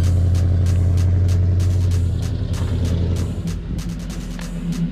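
A Chevrolet Impala SS engine roars loud and steady from close by, its deep drone wavering as the car accelerates hard, with no voices over it.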